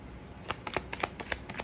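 Tarot cards being shuffled up close, a quick run of crisp riffling flicks and soft slaps over about a second and a half, with no talking.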